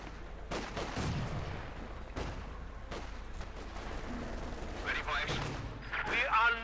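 Light machine guns rattle in Company of Heroes 2 as they fire on infantry, giving bursts of gunfire amid other battle noise under steady commentary.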